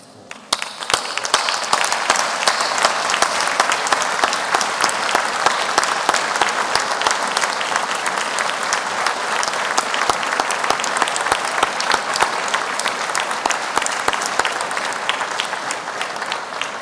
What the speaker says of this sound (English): those of us on stage may show our appreciation with a round of applause